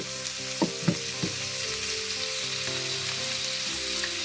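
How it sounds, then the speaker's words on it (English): Chicken pieces fry in a pan for a dhaba-style chicken curry, giving a steady close sizzle over a low droning hum, with a few sharp clinks early on. "We allow them to get roasted on both the sides"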